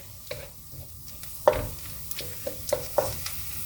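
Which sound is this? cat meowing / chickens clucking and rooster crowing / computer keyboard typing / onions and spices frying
onions and spices frying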